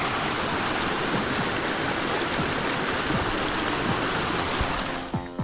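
A creek beside a hiking trail rushes in a steady, dense wash of flowing water, close and loud throughout.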